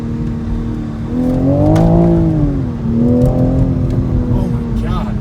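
A torquey car in sport mode accelerates hard from inside the cabin. The engine note climbs, drops briefly with a hard gearshift, then climbs again. Voices talk over the steady engine drone.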